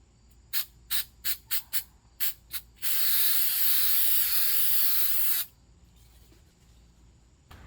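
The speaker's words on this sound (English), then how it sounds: "I'm gonna spray the material that I'm using to patch" Seven short bursts of spray adhesive onto tent fabric in quick succession, then one long continuous hiss of spray lasting a few seconds before stopping, close and fairly loud.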